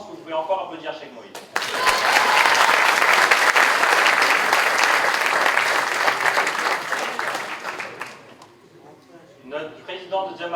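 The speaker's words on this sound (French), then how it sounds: "Je pense que vous pouvez encore applaudir Cheikh Moïse." An audience bursts into loud, sustained applause at an award presentation in a château in France, clapping densely for about six seconds before fading, with a voice speaking over the start and end.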